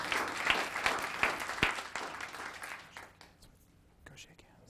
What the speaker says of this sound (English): Another round of applause for their many accomplishments.